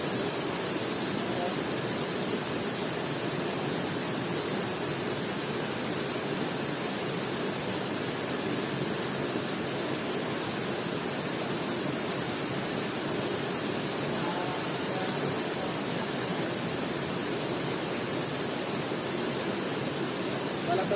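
A river flows steadily with a broad, constant rush of water that holds evenly for about twenty seconds.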